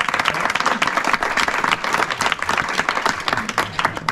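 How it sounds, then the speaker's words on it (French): A live audience at a school academy event breaks into sustained applause for the music and choir leaders, dense clapping filling the room steadily from start to finish. "on peut les applaudir"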